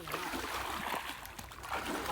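Water runs and trickles in a small stream where fish are being caught, a close, continuous babbling wash with light splashes.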